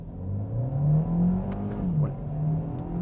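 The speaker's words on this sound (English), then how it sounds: "There we go, let's get into first, and I'm going to floor it and see if it feels punchy." A 2017 Hyundai i30 hatchback accelerates hard in first gear, its engine note rising and falling in a steady close-up whir from inside the cabin, with a couple of faint ticks and no talking.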